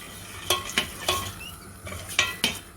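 Tomato sauce hitting a hot pan for trotter soup, with a few sharp scraping stirs and clinks of a utensil against the pan over a soft sizzle, close and moderately loud.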